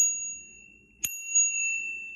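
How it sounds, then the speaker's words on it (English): A single bright ding of a basic bicycle bell on a folding fat-tire e-bike, struck once, ringing on with a clear sustained tone that slowly fades. "Real basic bell."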